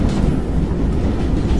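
Train rolling along rails at night, heard from a window seat, a steady low rumble with rushing wind and faint rattling throughout.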